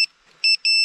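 A DJI Mavic Air 2 drone, downed after a crash, sounds its anti-theft alarm: three sharp, piercing electronic beeps, a short one, a pause, then two longer ones, close and loud with no talking.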